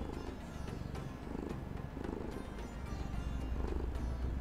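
A cat purrs steadily and softly right against the microphone, a close, rumbling low purr with no talking over it.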